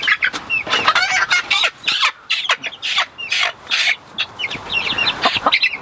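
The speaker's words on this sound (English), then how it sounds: "Look how beautiful these chickens are." Chickens and a rooster cluck and call in a busy, overlapping stream of short squawks, loud and close throughout with no talking.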